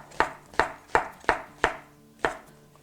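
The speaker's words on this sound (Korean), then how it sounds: "다음에는 이제 표고버섯을 썰 건데요" A knife slices fresh shiitake mushrooms on a cutting board in six crisp, evenly spaced taps with a short pause before the last one, close by and with no voices.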